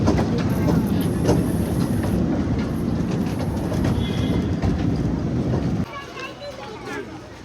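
A train rumbles steadily along the rails through a jungle, with rhythmic clattering wheels and a high metallic whine, then the rumble drops off near the end.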